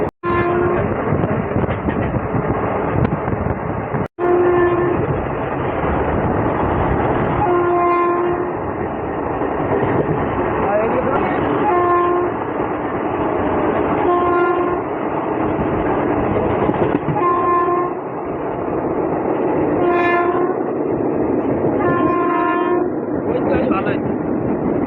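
A crowded Katwa–Azimganj passenger train runs loudly with a constant rumble and clatter, and its horn sounds in repeated short blasts. Voices can be heard beneath the noise.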